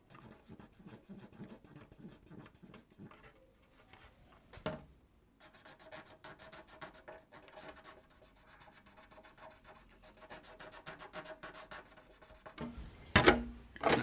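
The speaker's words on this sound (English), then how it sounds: "So just use a Q-tip to take out the excess paint while I'm at it." A cotton swab rubs excess paint off a freshly painted RC car body shell, a Nissan Skyline R34 or Mitsubishi Evo, giving soft, close scratchy strokes that pause briefly and end in a louder scrape.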